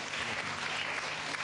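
Television game-show studio audience clapping steadily as a round of applause, a dense even wash of many hands at moderate level with no voices over it.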